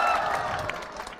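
A room of students hoots, claps and cheers in a loud, rowdy burst that carries on throughout and fades slightly toward the end.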